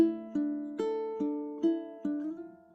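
Plucked ukulele notes ring out about six times, each sustaining and bending slightly in pitch as the string is slid, fairly close and moderately loud.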